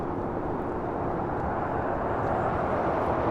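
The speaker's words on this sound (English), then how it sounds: "Connie 262 taking off to Tokyo Narita on a 777 freighter" A Boeing 777 freighter taking off at LAX, a steady broadband engine roar heard from a distance, continuous and fairly even in level.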